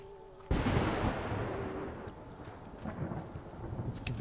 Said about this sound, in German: Jetzt gewittert es auch noch.